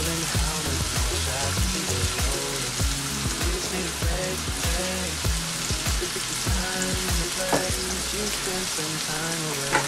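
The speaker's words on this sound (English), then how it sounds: "we have our peppers and onions sauteing in the pot" Peppers and onions sauté in a pot over high heat with steady sizzling and frying crackle, with occasional clinks and bumps of cookware throughout the kitchen.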